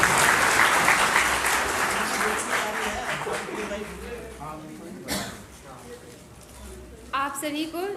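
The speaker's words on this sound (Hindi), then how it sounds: "जोरदार ताली बजाकर उनका स्वागत करें" Audience applause welcoming Dr. Kanaklata to the stage at a two-day national convention, loud clapping at first that gradually thins and fades as a voice begins speaking over it.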